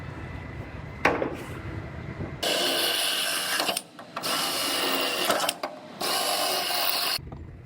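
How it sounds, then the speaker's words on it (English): A power drill bores out spot welds on a steel floor bracket of a rear-ended Toyota, grinding in three loud sustained bursts with brief pauses between them, close and harsh with no talking. "So I'm going to drill out these 4 spot welds"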